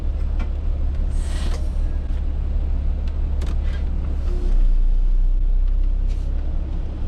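A 2004 MCI coach bus drives with a steady low engine rumble, with several short hissing bursts of air brakes above it and a deepening drone near the end, no talk.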